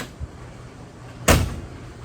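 The door of a 1968 Ford Mustang, fitted with a new latch, shuts in one solid, close thump and latch click, after a faint quiet lead-in and followed by low background hum.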